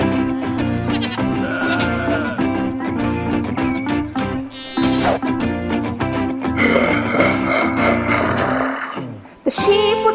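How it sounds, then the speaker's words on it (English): Bleating sheep in a meadow, set within music that runs steadily throughout, with several wavering cries layered over the melody and no speech. "Across the meadow he saw some sheep."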